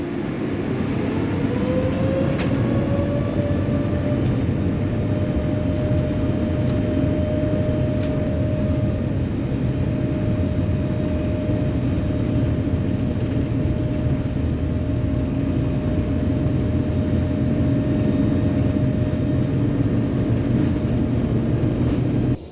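A Lufthansa airplane climbing out of Frankfurt, heard from inside the cabin as a loud, steady engine roar with a constant high whine and no break for the whole stretch.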